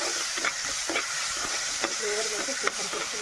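Ground ajwain leaf paste hitting a hot pan and sizzling as it fries, a steady close hiss with occasional stirring scrapes and small pops.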